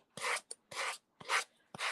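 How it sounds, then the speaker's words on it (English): A sanding block rasps across paper edges in four separate strokes, all going the same direction, close and fairly loud, used to remove excess decoupage, rice or tissue paper in a Halloween craft project. "I just like to take a sanding block going in one direction"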